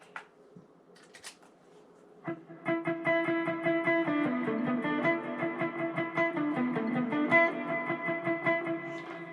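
Distorted electric guitar plays a steady rhythmic riff of repeated chugging notes from the worship song Oh The Cross, loud and sustained after a few brief taps at the start.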